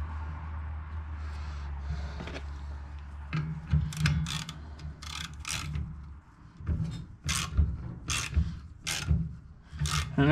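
A double flaring tool being tightened down on a steel brake line, with close, repeated ratcheting clicks and metallic creaks in uneven bursts over a low background hum.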